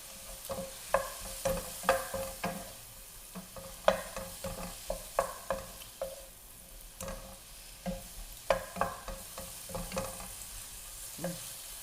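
Shrimp and asparagus stir-fry in a pan, with a soft sizzle beneath repeated scraping strokes of a spatula in an uneven rhythm, close and fairly quiet, with no voices.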